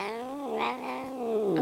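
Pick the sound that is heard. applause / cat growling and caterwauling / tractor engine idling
cat growling and caterwauling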